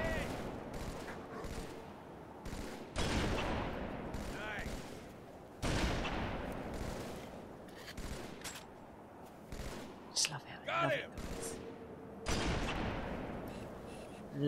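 Video game gunfire from Halo 3 bursts out in several loud, sharp volleys separated by quieter stretches, some shots rapid and clustered, with a person talking in between.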